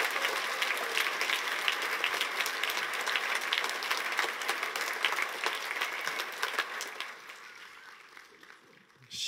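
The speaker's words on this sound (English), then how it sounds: "And I would like to give Michelle Stein a round of applause for hanging in there." An audience claps steadily for several seconds, a dense patter of many hands that gradually thins and fades toward the end.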